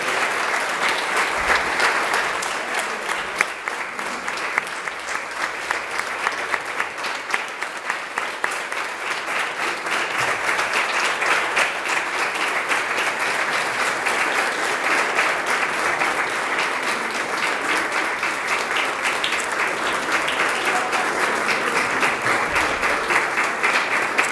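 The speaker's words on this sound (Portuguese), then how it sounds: "Igreja, pode aplaudir o Senhor Jesus" A church congregation applauds steadily during a worker-presentation service, a continuous wash of many hands clapping that stays even and moderately loud for the whole stretch, with no talking.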